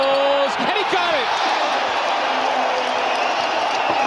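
Basketball arena crowd roaring and cheering as fans rise to their feet, a dense, loud sustained wash of voices after a brief burst of bouncing at the start.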